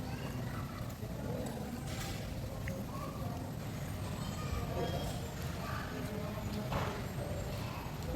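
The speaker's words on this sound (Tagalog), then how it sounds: "Doon sa kabayo. Kabayo ba yan?" Horse hooves clip-clop in an outdoor setting, a steady, moderately near rhythm of hoof strikes running under people chatting throughout.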